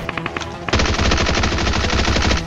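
Rapid automatic gunfire from shooting bots in the mobile battle royale game BGMI, a few quick shots first, then a loud, sustained burst of fire close up.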